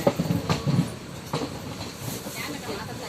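A passenger train on the Vijayawada to Erode line rolls slowly along the rails, giving uneven wheel clatter and rumbling bursts that swell and fade. A person's voice is partly heard over it.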